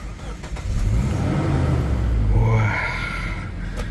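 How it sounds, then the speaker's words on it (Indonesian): A 2.7-litre petrol Toyota Fortuner engine cranks and catches, then settles into a loud, rumbling idle with a brief rev partway through, heard close up. "sekarang kita nyalain aja si mesin"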